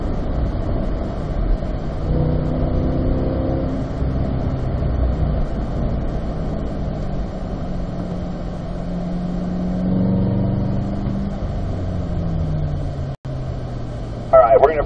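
Chevrolet Corvette C8 on a racetrack accelerating after an upshift to fourth gear, a steady engine drone rising in pitch heard from inside the cabin, with a voice speaking over it.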